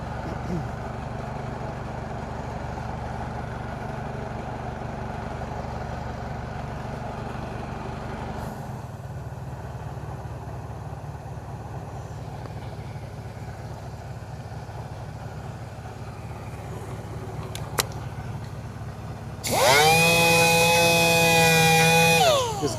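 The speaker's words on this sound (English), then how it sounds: "I'll go ahead and hit this with the 320 on the sander" A power sander fitted with 320-grit paper works a Porsche wheel rim during curb rash repair, starting abruptly near the end as a loud, steady whine with a shifting pitch over a low background hum.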